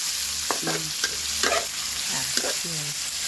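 Bamboo shoots stir-fried with mushrooms and garlic, cooked over a wood fire, sizzle steadily while a utensil scrapes and stirs the pan in several rhythmic strokes, with no talking.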